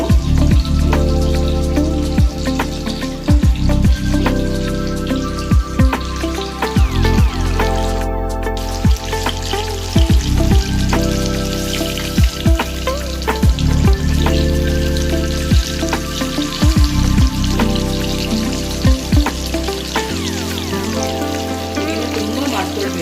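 Pieces of KFC-style marinated chicken deep-fry in hot oil over a medium flame, a dense, steady sizzle and crackle with faint clatter on top, close and continuous throughout.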